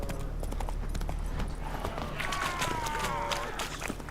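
Roach, the horse in The Witcher 3 video game, gallops in a quick, steady clip-clop of hooves, close and continuous across the whole stretch.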